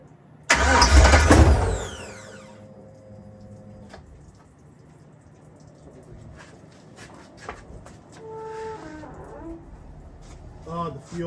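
A Chevy Nova with a swapped-in LS V8 cranks and roars to life in a loud burst that lasts about a second and a half, then dies back to quiet shop ambience. Scattered clanks and voices follow.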